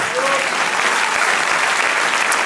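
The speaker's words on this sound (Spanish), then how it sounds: "Dale un aplauso al Señor." Congregation in church applauding the Lord, a loud, dense and even burst of many hands clapping that fills the short stretch without a break.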